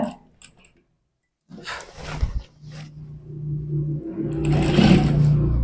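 A sewing machine stitches the collar of a gents kameez, starting after a near-silent pause with short bursts, then building into a louder, continuous whirring run toward the end.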